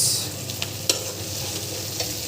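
Potatoes and flat beans sizzle and fry in a pan while being stirred, a steady close hiss broken by a few sharp scrapes and clacks of the spoon.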